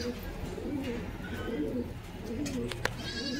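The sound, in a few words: pigeons cooing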